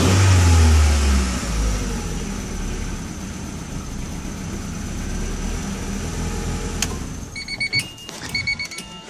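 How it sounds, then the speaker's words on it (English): A Honda CB7 motorcycle engine with a slight exhaust leak and contaminated fuel revs under acceleration, a loud, steady mid-pitched drone with uneven stuttering bursts toward the end where it misfires. "If you rev it, during acceleration it misfires"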